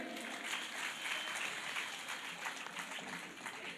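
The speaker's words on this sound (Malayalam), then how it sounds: "അതിന് നമുക്ക് കയ്യടി കൊടുത്തൂടെ?" An audience applauds together in a hall, a dense, even patter of many hands clapping at moderate distance, steady throughout with a faint voice mixed in.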